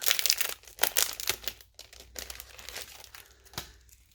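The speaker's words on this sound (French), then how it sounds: "si votre ballon, quand vous l'ouvrez, voilà, on va l'ouvrir." Thin aluminium foil balloon, an 18-inch birthday balloon with a valve, crinkles and rustles as it is unfolded from its packaging, in bursts of crisp crackling up close that then settle into softer intermittent rustling.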